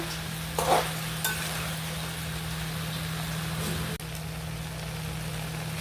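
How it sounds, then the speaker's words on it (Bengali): Okra with onion greens frying in oil in a home kitchen pan, a steady sizzle with a low hum beneath and a couple of brief scraping stirs near the start. "ভেন্ডিটা আমি মিশিয়ে নিছি ভালো করে"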